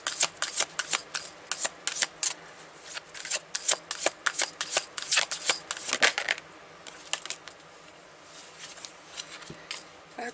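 Tarot cards being shuffled up close, a rapid run of crisp riffling flutters and slaps that comes in bursts, then thins out to a few soft card sounds near the end, with no voice.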